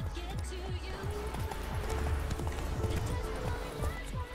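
Hooves clip-clop in a steady trotting rhythm as a horse moves through a city street in The Witcher 3, a fantasy role-playing game, over a busy ambient background.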